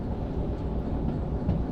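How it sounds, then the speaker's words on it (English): Train braking in the railway simulator game Derail Valley: a steady low rumble of rolling stock with faint clatter, continuous and fairly loud for the whole stretch, with no talk. "Let's bring the train to a halt before the next switch."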